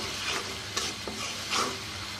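Ginger-garlic paste fries in a pan for a layer chicken and kakrol curry, a continuous close sizzle broken by a few quick scraping stirs of the spoon, with no talking.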